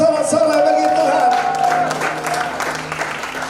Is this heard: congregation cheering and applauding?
yes